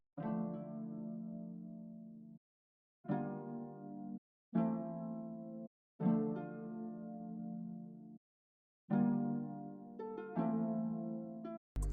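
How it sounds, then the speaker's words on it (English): A sampled guitar plays block chords in FL Studio, with each chord ringing briefly and then cut off by short silences, giving a clean, evenly spaced pattern with no voice. "The next sound is the same guitar, but instead of arpeggiating the chords, I'm just playing the regular chords"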